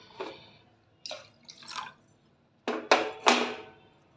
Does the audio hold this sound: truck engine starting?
no